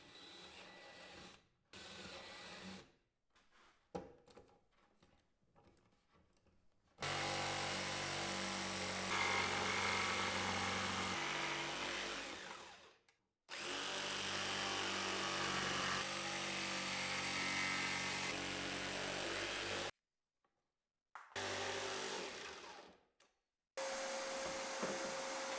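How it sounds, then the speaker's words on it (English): Power tools drilling out corners and jigsawing a hole in the wooden box of a DIY laminar flow hood, several loud sustained bursts of whining motor separated by brief pauses. "Then I'll drill out the corners and jigsaw the hole like I did for the blower opening"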